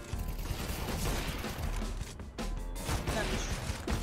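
Rapid bursts of gunfire crackle through a dense, loud mix of game action, with crashes and mechanical clatter running throughout.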